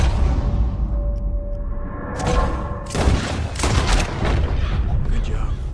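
Gunfire in Red Dead Redemption 2 rings out as a burst of loud, sharp shots in quick succession, cracking over low game ambience and rumble after a quieter stretch, with speech nearby.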